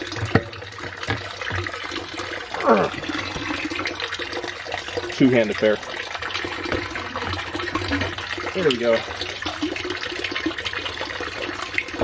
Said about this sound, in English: So now water's flowing down through that pipe.